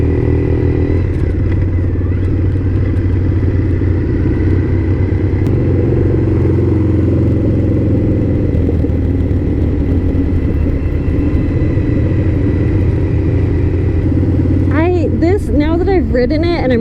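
Triumph Thruxton motorcycle ridden around a neighborhood: a steady, loud engine rumble with slight rises and falls in revs. A voice talks over it near the end.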